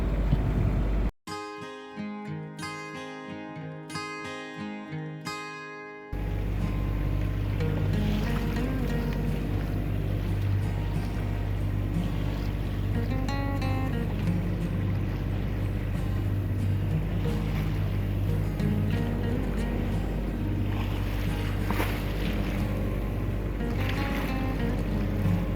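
Steady, loud engine drone and rushing water from a sailboat motoring at sea in windless conditions, after a few seconds of music at the start.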